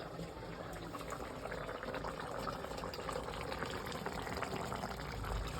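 Fish curry broth bubbles steadily in a pot, a dense, continuous simmering hiss with soft popping throughout, close and moderately loud with no voices.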